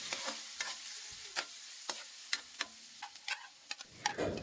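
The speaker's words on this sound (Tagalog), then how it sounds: "Pagkatapos ko nga ginisa ang bawang sibuyas, ay sinunod ko na nga itong hotdog" Hotdog sautés with garlic and onion in a pan; a faint background sizzle is punctuated by a series of sharp scraping and clinking stirring strokes at an irregular rhythm, with no voice.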